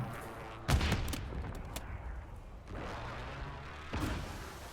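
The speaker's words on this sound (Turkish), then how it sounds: "Nasıl kucağına düştü ya bomba?" Sharp grenade blast in Call of Duty: Warzone, then a few quieter booms and rumbling gunfire-like bursts spread across a few seconds, with faint background game noise.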